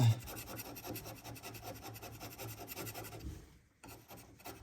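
Hand scraping on the way of a DIY CNC machine gives rapid, rhythmic rasping strokes, close and steady, that pause briefly near the end before resuming.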